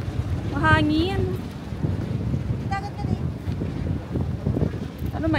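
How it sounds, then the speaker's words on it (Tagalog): Strong wind buffets the microphone during a boat ride off Guimaras, a continuous low roar, with a voice briefly calling out over it. "Mahangin."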